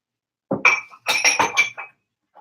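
Glass clinks while a shot glass is fetched in a home kitchen: a quick series of bright, close clinks and taps in two bursts, then a faint final tick, with no talking.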